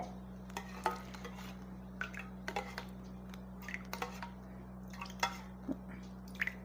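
A spoon stirs a small batch of homemade vitamin C serum, making light, irregular clinks and taps against its container over a faint, steady background hum.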